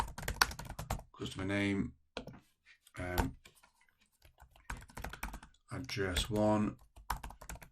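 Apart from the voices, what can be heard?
typing on a computer keyboard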